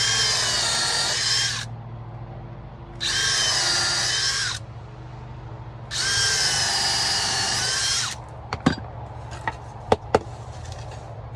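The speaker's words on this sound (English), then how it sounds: "pre-drilling all the holes where the gussets are going to be fastened." A power drill pre-drilling holes in wood for sawhorse gussets whirs in three sustained bursts of about two seconds each, separated by pauses, followed by a few sharp knocks and clicks.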